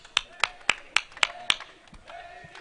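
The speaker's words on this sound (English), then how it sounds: "Can you please give yourself a round of applause again?" A few people clap in a brief, fairly regular burst of about six distinct claps at a youth social media gathering, then trailing off into quieter taps and faint voices.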